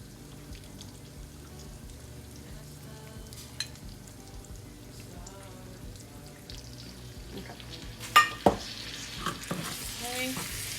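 Cornbread batter mixed with salsa in a bowl, a soft wet stirring and scraping that goes on at a low level, ending in a few louder clacks of the utensil against the bowl.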